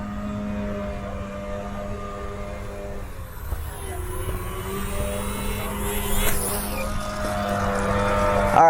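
The small electric motor of an E-Flite UMX Yak 54 RC plane whines steadily as it comes in to land, its pitch sliding and the sound growing louder and nearer toward the end.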